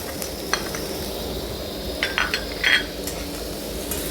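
Beetroot and carrot pieces hit hot oil with a steady background sizzle, broken by a few metallic clinks and scrapes of a utensil against the pan.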